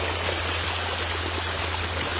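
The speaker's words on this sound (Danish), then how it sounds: "Det er dræn, der simpelthen løber" Water from a field drain rushes out in a steady, close, continuous stream beside a forest path.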